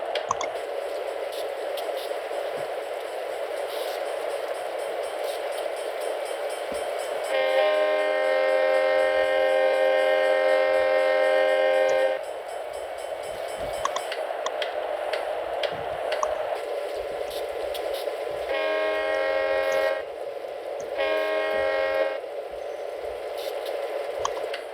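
A train rumbles along in the Train Simulator 2014 game, with a steady engine drone under two long horn blasts and two shorter ones, plus scattered clanks, and no speech.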